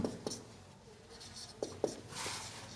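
Marker or chalk writing Hindi text on a board, a few short scratchy strokes and taps between quiet gaps, close and fairly faint.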